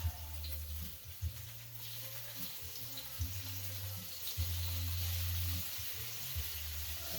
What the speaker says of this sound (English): I'm going to throw the meat on, the vegan meat that's been thinly sliced.